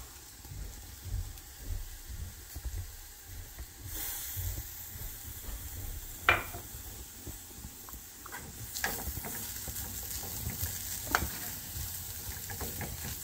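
Raw banana curry (balekayi palya) with coriander leaves simmers in a pan on low heat, a steady hiss and gentle sizzle broken by occasional clinks and scrapes of a stirring spoon.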